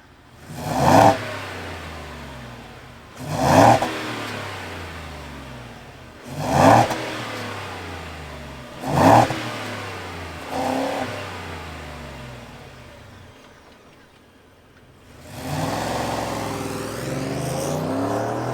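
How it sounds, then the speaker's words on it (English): A Ford F-150 V8 truck engine revs in four sharp, loud bursts spaced a few seconds apart, each falling back to a rumbling idle, before a longer sustained rev builds near the end. "let's fire up this V8"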